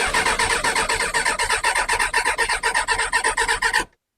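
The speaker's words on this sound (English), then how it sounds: "So I've got the choke on, hit the starter," A Kawasaki ZX6R engine cranks on its electric starter with choke on, a rapid, rhythmic churning pulse repeated steadily for nearly four seconds before cutting off abruptly without firing.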